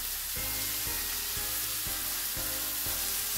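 Plenty of onions fry in a hot pan for a paneer gravy, giving a loud, steady sizzle with faint regular stirring scrapes and no talk.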